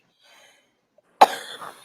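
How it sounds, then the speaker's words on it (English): A single sharp cough bursts out close to the microphone after near silence, followed by a brief rough tail, with only faint murmuring before it. "She's muted so she can cough."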